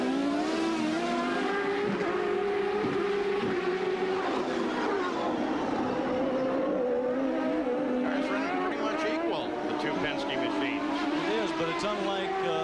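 CART open-wheel race cars circling the 1996 Detroit street circuit, engines whining steadily with rising and falling pitch as they pass, a continuous high-revving drone under commentary talk.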